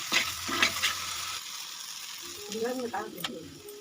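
Turmeric and chili powder are sautéed in a pan with a quick stir, making scraping strokes over a soft sizzle, with a brief voice-like murmur near the end.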